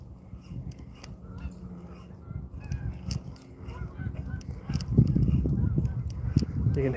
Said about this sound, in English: You can hear the Canadian geese in the background.